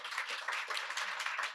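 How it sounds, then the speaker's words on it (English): Conference audience applause at an ideas conference, a brief, steady burst of many hands clapping together, heard at a moderate distance with no talking over it. "Give him a round of applause."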